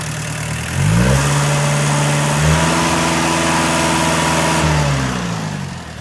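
A Kubota L2602DT four-wheel-drive tractor engine, close and loud, revving up from idle, holding a steady higher note, then dropping back down, with no talking.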